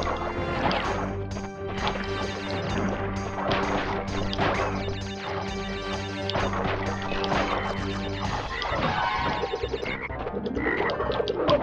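In the PlayStation game Crash Bandicoot 3: Warped, a frog croaks repeatedly over steady background music, its loud throaty calls mixed with smacking hit effects.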